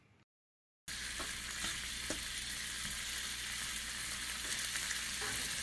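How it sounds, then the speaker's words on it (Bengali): Ground ginger and fennel paste frying in oil, a sudden loud sizzle that bursts in after a brief silence and holds steady and close, with faint crackles underneath. "এবার যে আমি আদা আর মৌরির যে পিষে রেখেছিলাম সেগুলো এতে দিয়ে দিয়ে খুব সুন্দর করে আগে এগুলোকে ভেজে নেব।"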